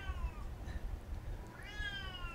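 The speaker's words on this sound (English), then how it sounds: "But cat's screaming." A house cat screams and yowls in a few drawn-out, wavering cries under a low background hum, moderately faint and indoors.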